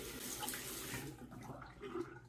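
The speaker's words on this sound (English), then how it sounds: "I'm going to rinse this off." A razor is rinsed under a running tap, giving a steady, faint rush of flowing water that shifts slightly in tone as the blade moves through the stream.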